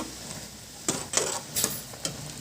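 Flour mixture stirred in a pan over a sizzling base, with four distinct scraping strokes at irregular intervals, close and moderately loud. The dough is for undrallu, steamed rice-flour dumplings.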